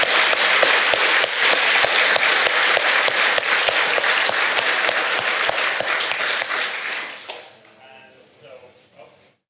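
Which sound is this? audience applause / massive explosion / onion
audience applause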